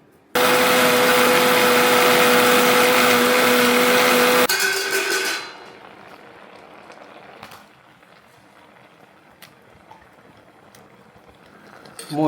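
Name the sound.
mixer grinder grinding coconut paste with water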